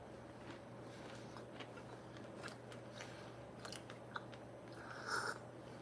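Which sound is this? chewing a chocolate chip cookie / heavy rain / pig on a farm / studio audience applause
chewing a chocolate chip cookie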